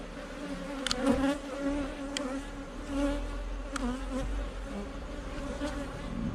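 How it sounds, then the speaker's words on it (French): Honeybees swarming around a beehive during a spring hive inspection, giving a dense, steady close-up buzz that hums on without a break and with no voices. "un bel essaim, franchement"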